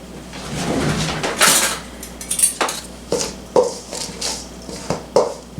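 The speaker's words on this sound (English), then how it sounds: "let's put our 1/2 teaspoon of salt in here and mix it all together." A spoon scrapes and clinks against a bowl while salt is mixed into a no-bake cookie mixture, giving irregular knocks and scrapes up close with no talk.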